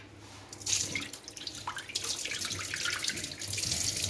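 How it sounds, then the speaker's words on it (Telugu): Leafy greens being rinsed by hand in a vessel of water at a sink, with sloshing, splashing and trickling water close up, fairly quiet and continuous with small bursts. "ఆకైతే నీట్గా కడిగేసి ఈ నీళ్ళన్నీ ఉమ్మేసి మళ్ళీ ఒకసారి నీళ్ళు వేసి"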